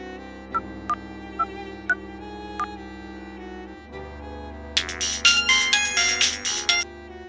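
A phone call to a father begins with a few soft ringback beeps, then a loud, bright electronic ringtone melody plays in bursts for about two seconds.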